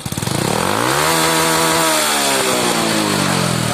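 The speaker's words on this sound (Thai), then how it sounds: "เรามาฟังเสียงรอบตัดกันนะครับ" A stock motorcycle fitted with an aftermarket cam, exhaust pipe and sprockets revs hard, its engine climbing quickly to the rev limiter and bouncing there in a loud, close, buzzing stutter.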